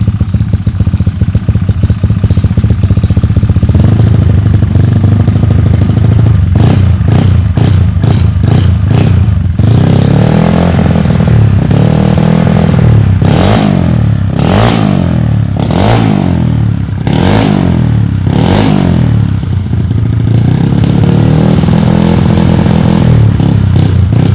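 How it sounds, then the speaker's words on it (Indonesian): A Yamaha Mio Sporty scooter engine idles with a rough clatter, then revs hard several times in quick bursts, loud and close, before settling back to idle. "Boleh digeber-geber dikit gak bro Dito?"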